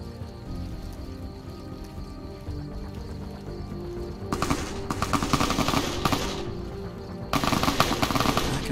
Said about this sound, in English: I can hear the shots.